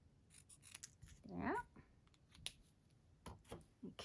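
Scissors fussy-cut card stock close up, snipping in several short, quiet bursts with light rustling of paper between cuts.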